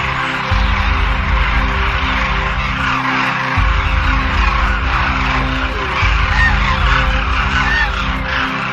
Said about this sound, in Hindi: स्थानीय तौर पर कुर्जा नाम से जाने जाने वाले हजारों डेमोइसल क्रेन